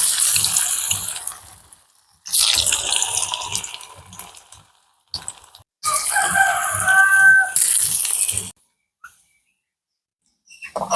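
Rava vada with onion fry in hot oil, giving loud crackling sizzles that come in long bursts separated by short silent gaps.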